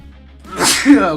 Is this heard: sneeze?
yes